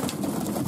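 Racing pigeons cooing steadily in a loft, a close, continuous murmur of soft throaty calls with no talk.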